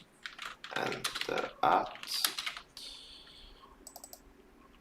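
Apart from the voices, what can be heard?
typing on a computer keyboard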